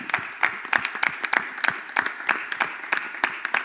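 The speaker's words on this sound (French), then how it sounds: "Est-ce qu'on peut applaudir?" A church youth-service congregation claps in rhythm, sharp evenly spaced claps repeating steadily at moderate distance, with no talk over them.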